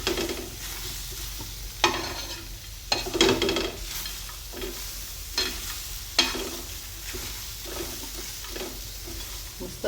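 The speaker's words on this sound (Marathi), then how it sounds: "मस्त आता अशा पद्धतीने सर्व वांगे छान भाजल्या जात आहेत" Brinjals dry-roasting in a pan with no oil, giving a soft steady sizzle broken by several sharp stirring scrapes at irregular intervals, close and alone without voices.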